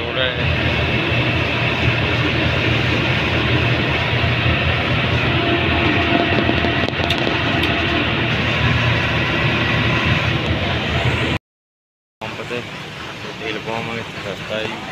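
A passenger train heading toward Kolkata, past Varanasi, runs with a loud, steady rumble of wheels and carriages. The sound cuts out briefly near the end, then returns slightly quieter.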